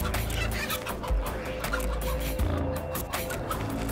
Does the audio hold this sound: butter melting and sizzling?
no